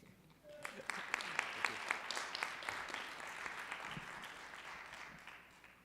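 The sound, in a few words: audience applause after workshop talk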